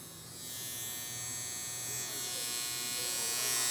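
Mini skull-shaped electric shaver switched on, a steady close-up buzzing hum that holds and swells slightly in level for a few seconds, with no talking.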